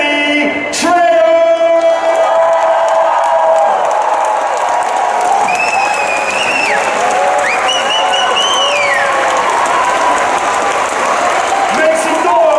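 A large comic con audience welcomes a celebrity guest with loud, sustained applause, cheering and whoops that fill the whole stretch, with scattered shouts and whistles rising above the roar.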